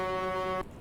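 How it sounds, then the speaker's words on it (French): Loud, steady truck horn blast in American Truck Simulator, a single sustained tone held for about half a second before cutting off abruptly. "Ah ça c'est du klaxon."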